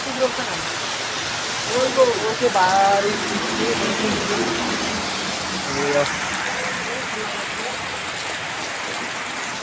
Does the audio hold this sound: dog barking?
no